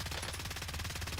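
Rapid, sustained SMG gunfire from the video game Warzone, a loud, dense stream of shots rattling without pause.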